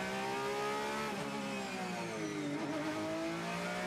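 A safety car at the Le Mans 24 Hours race runs its engine steadily, a continuous mid-pitched drone with rising and falling pitch sweeps as it passes, loud and close with no talk.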